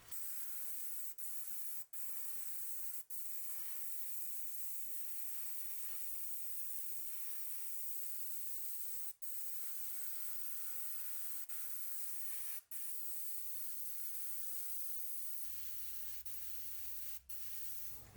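Matte varnish sprayed from an airbrush or can onto a 1/48 scale ICM MH-60L DAP Black Hawk model helicopter, a continuous quiet hiss broken by a few short pauses, with a low hum near the end.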